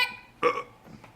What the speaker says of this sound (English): Wait, do another burp.